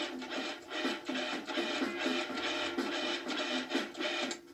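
A food processor pulses grated cheddar cheese into a butter dough, giving a rapid, rough grinding and scraping rattle in short repeated bursts, moderately loud and close, with no talking.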